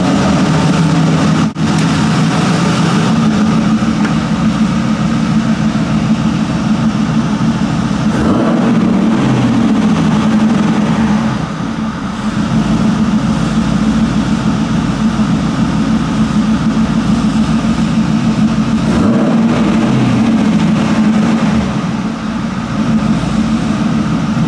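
Car engine idling at a high idle of about 1,000 RPM after throttle body work, a steady low rumble that stays constant and close throughout with occasional faint clunks, no speech.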